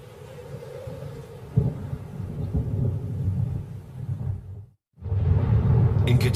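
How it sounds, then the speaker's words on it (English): Thunder rumbles through a rainy storm in Katavi at the start of the short rains, a steady low roar with a sharp crack partway through, a brief near-silent gap, then the heavy rumble resumes loud and close. "In Katavi, October brings the short rains."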